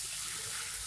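Water pours steadily into a cooking pan of jackfruit curry with oil, a soft, continuous splashing rush heard briefly and fairly quietly.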